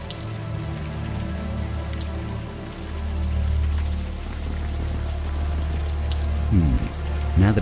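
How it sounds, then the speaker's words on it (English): Warm rain falls in the game Unavowed, a close, steady patter of drops over a low rumbling bed, with a couple of brief swishing sounds near the end. "the warm rain is coming down"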